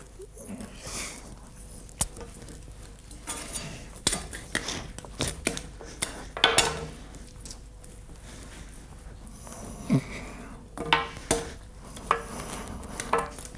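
A spoon or utensil knocks and scrapes in a bowl as caramel paste for traditional handmade sugar sweets is mixed with essence and yellow colouring, scattered clinks and taps at irregular intervals, fairly quiet and close.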